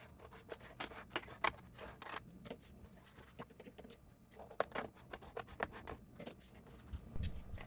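Scissors snip through a paper napkin in a series of quiet, close cuts with soft scratching and rustling of paper between snips.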